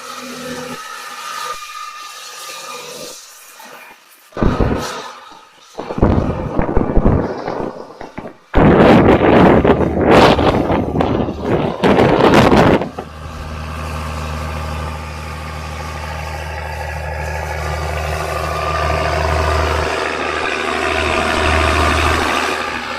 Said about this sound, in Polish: a tak się prezentuje ciągnik przy koszeniu